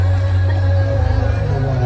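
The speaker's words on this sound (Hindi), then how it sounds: "तो जहाँ जहाँ भी आप देखेंगे भीड़ आपको मिलेगी।" Festival crowd at the Urs of Dargah Mubarak Khan Shaheed in Gorakhpur, a steady loud hubbub of many voices with constant low rumble and mechanical drone, continuous throughout without any distinct event.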